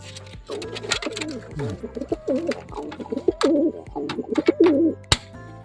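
Several racing pigeons coo in low, rolling phrases close by at a derby loading area, with a few sharp clicks and knocks in between.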